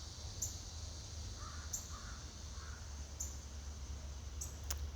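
Crows caw in short, distant bursts, four or five calls spaced through an otherwise steady outdoor hush with a low rumble underneath; faint and far rather than close.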